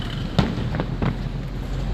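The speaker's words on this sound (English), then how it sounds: "There's some fireworks." Distant fireworks heard from inside a poker room during a 50K bounty tournament, three or four muffled pops and crackles over a constant low rumble.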